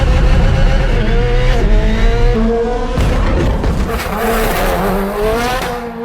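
A sports car engine revving past 9,500 RPM screams at very high revs, rising and falling continuously as it drives hard, with tires squealing at moments.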